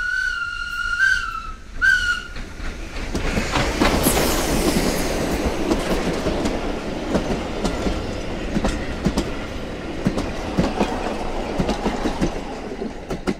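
Steam train Molly at Heiligendamm sounds two sharp whistle blasts, then rolls on with loud, steady clickety-clack rumble and hiss, with a brief squeal as it passes close by.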